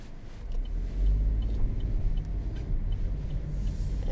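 A 2022 Chevrolet Trailblazer pulls away and drives on, with a steady low engine rumble and road noise from inside the cabin that swells slightly as it gets under way.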